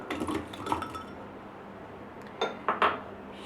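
Strawberries tumble into a container for a milkshake, giving a few quick clinks and knocks early on and a cluster of sharper taps near the end, with quiet gaps between.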